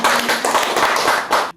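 A group claps together in a short burst of applause at a school event, dense and lively throughout before cutting off abruptly at the end.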